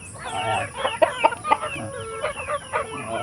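Native chickens squabble on a rural Philippine farm, with sharp squawks, clucks and brief flurries of calls in quick irregular bursts, close by and fairly loud over a steady background hum.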